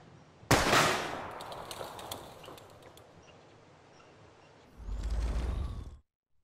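A gun fires at an old blue plank in the video game Life is Strange: one loud, sharp blast that rings out and decays, then a second, thicker burst near the end.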